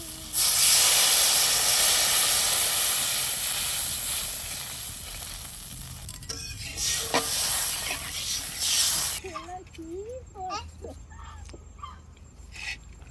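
Water hits a hot pan with a loud, rushing hiss of steam that slowly fades over several seconds while a fish curry cooks, followed by quieter bubbling, a few clinks and brief background voices.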